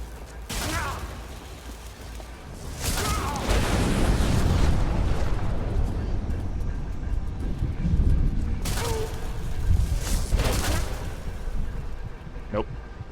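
A modded ion cannon in Skyrim goes off in loud, rumbling explosive blasts, with a few sharp bursts layered over a sustained roaring wash that fades slightly toward the end.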